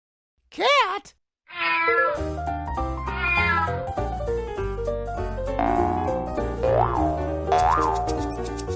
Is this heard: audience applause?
no